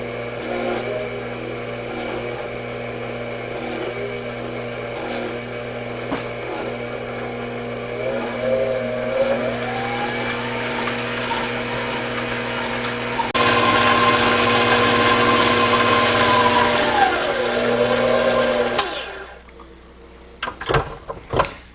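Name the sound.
electric mixer whipping carrot cake batter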